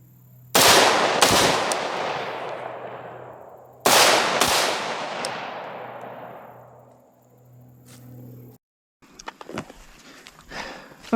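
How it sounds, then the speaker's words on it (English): Two loud, close AR-15 rifle shots from a PSA rifle fired at an outdoor target, each ringing out in a long echoing decay, followed by quieter handling and rustling noise. "we're just going to take a couple of shots on the target here"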